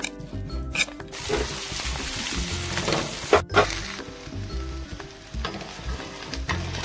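Fenugreek paratha fries on a hot pan with a steady, close sizzle, broken by a few stirring scrapes and light metallic clinks.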